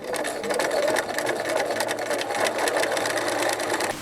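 A sewing machine runs continuously, stitching a vertical line on a tote bag pocket, a steady close whirring hum throughout.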